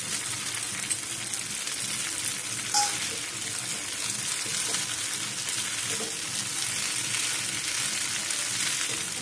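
Two fried eggs added to village-style dragon pasta in a hot pan, with a steady, loud sizzle and a few small clinks of utensils.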